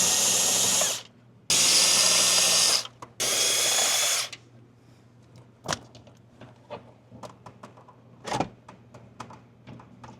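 A power driver backs screws out of the dash bezel of a 1998–2004 Chevy S10 in three loud, whirring bursts a few seconds long. Scattered clicks, taps and plastic knocks follow, all close up, with no speech.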